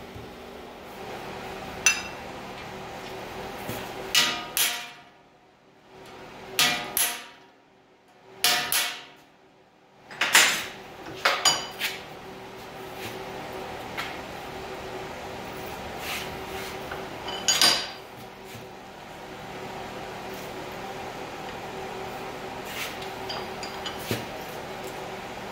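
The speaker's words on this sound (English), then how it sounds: "Just clamp it in the vise and hit it with a hammer." Hammering on a rusty car trunk lid clamped in a vise, with scattered sharp metallic knocks and taps in irregular clusters over a quiet workshop background.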